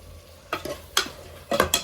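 Chicken biryani being stirred and mixed in a pot: four short, close scraping strokes of a spoon through the rice, separated by brief quiet pauses, with no voices.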